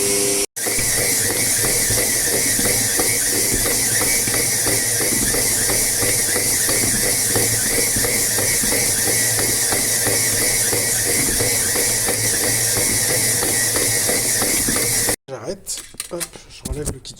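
A food processor kneading bread dough: a loud, steady motor whir with a rhythmic churning pulse running almost throughout, then cutting off abruptly near the end, leaving quieter handling sounds.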